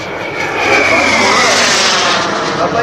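An F-16 fighter jet with speed brakes extended flies past, a loud, steady roaring jet engine with a broad hiss that swells slightly as it passes close by.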